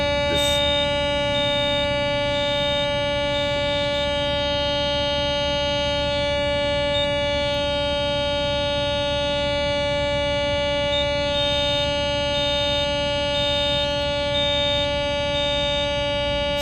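A loud, steady electronic warning tone from a Tadano GR1000XLL-4 crane's load moment indicator sounds continuously, a harsh sustained alarm with a faint pulsing beep over it, no talking.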